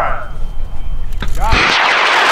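High power rocket launch on an L1720 motor at a large launch event: after a few seconds of wind and crowd noise comes a sharp crack, then a loud sustained roaring hiss as the rocket lifts off, with voices around it.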